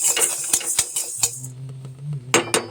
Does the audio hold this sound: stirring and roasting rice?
yes